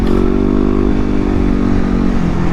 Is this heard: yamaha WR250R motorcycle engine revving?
yes